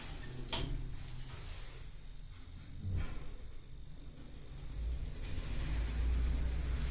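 Electra Vitoria machine-room-less lift doors at a retail park slide shut with a low rumbling hum and a soft thud, heard up close under faint background hum.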